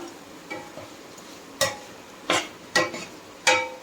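Mushroom fried rice ingredients stirred in a hot pan: a soft background sizzle broken by a few sharp scraping clinks of the spatula against the metal, spaced irregularly about a second apart, close and clear.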